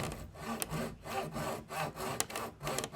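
A coping/tenon saw cuts slowly at an angle through thick timber, with about eight to ten rasping back-and-forth strokes in a steady rhythm, close up and alone.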